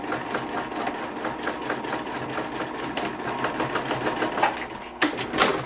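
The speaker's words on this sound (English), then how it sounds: "I'm going to go ahead and stitch across." A sewing machine stitches across purse fabric in a steady, fast mechanical chatter, close and moderately quiet, with a brief clunk near the end.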